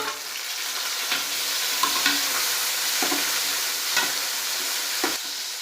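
Onion, tomato and green chillies frying in a pan for chicken biryani give a steady close sizzle, with several soft stirring scrapes spaced about a second apart and no voices.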